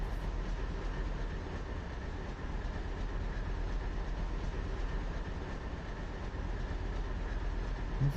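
Freight cars rolling along the track in Train Simulator Classic on the Boston to Albany New York Central line, a steady, loud rumble with rail noise that runs unbroken the whole time, no voices over it.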